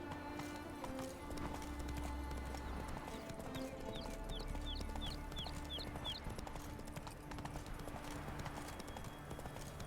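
A horse's hooves clip-clop in The Witcher 3 video game, a quiet steady rhythm of hoof steps under game music and ambient sound, with a faint whinny-like call in the middle.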